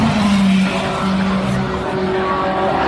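A BMW race car on track, a loud engine tone close by that shifts pitch as it sweeps past, with a wash of tire and crowd noise underneath.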